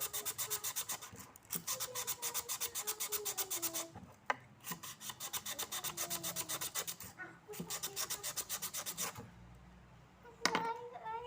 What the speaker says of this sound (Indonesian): Kita lanjut lagi amplas kedua. Paku yang kedua.